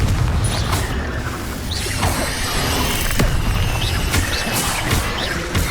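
Spells cast in the Hogwarts Legacy video game set off repeated booms and crashes with whooshing bursts, in a dense, loud run of effects with no pause.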